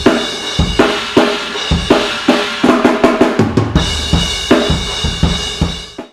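Uncompressed drum kit heard through room mics: loud, roomy kick and snare hits with a ringing cymbal wash in a steady, driving groove and a short fill partway through, ending abruptly.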